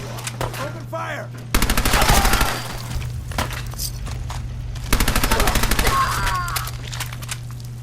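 Rapid bursts of gunfire in the video game Fallout 4, two loud volleys of repeated shots with steady game noise and a low hum between them, close and dominant.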